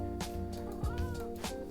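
A Minecraft cat gives a couple of short, soft meows over a quiet background of steady musical tones.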